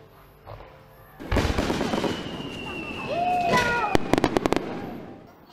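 Fireworks launching at a summer festival with a sudden whooshing burst, a rising whistle, then a rapid string of sharp cracking pops, loud and nearby.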